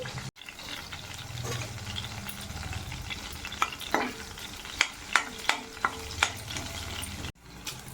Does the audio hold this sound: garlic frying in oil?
yes